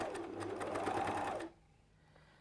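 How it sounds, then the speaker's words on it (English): An overlocker sewing machine runs in a fast, loud, even whir for about a second and a half, then stops abruptly, leaving near quiet. "Oh, Hallie, we need to get you overlocking."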